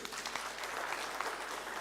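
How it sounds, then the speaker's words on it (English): A crowd applauds a presenter at an Airtel Premier product launch event, a dense, even wash of clapping that stays steady and moderately distant for the whole stretch. "Another round of applause for him, please."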